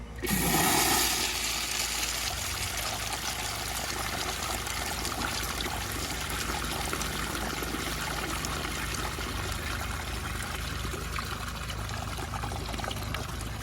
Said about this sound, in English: That has a pretty good flush.